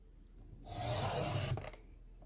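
A paper trimmer slices a piece of black cardstock in one smooth, scraping cut lasting about a second, quiet and close.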